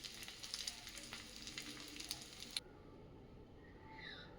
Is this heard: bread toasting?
yes